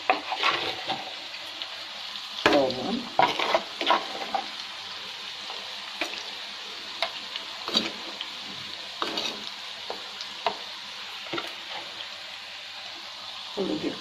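Shrimp fry with onions in a pan, giving a low, steady sizzle under repeated spatula scrapes and knocks that come in irregular bursts. Faint background sounds suggest talk nearby.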